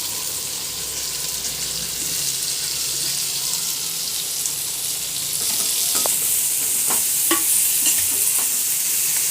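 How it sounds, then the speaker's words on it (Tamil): Ginger garlic paste sautés in a hot pan, a steady soft sizzle with a spoon scraping and stirring, growing slightly louder toward the end with a few sharp clinks. "அதை தீய விடாமல் அப்படியே இஞ்சி பூண்டு பேஸ்ட் போட்டுடலாம். 1 செகண்ட் அதை நல்லா வதக்கிட்டு"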